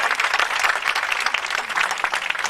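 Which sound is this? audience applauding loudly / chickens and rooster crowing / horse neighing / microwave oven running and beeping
audience applauding loudly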